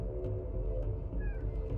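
A house cat meows briefly, a short rising cry heard faintly over a steady low background hum.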